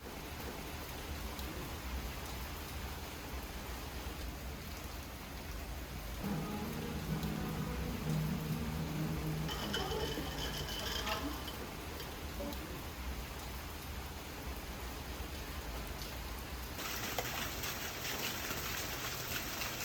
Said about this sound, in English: it was raining like crazy and we got drenched, the rain sounded so calming and relaxing